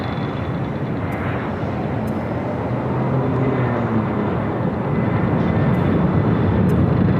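A Southwest jet rolling for takeoff on runway 24 left at LAX, a loud continuous engine roar that swells steadily over several seconds, heard from nearby with no talk.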